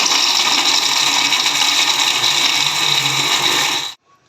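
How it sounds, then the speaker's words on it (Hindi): An electric mixer grinder whirs at high speed as it grinds masala ingredients in a grinding jar, a loud, steady, close whine that cuts off abruptly near the end. "और मैं इनको अच्छे से ग्राइंड कर लूँगी।"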